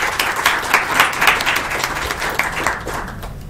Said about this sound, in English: give a round of applause to all the organisers and